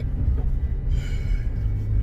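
A car exhaust rumbles at idle close by, a steady deep throbbing drone with slight pulsing and no talk over it.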